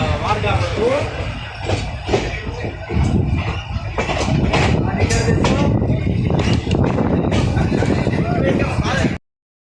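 A passenger train arriving at Markapuram station, with loud rumbling, rattling and clanking of carriages and brief squeals, a person talking over the noise, ending abruptly.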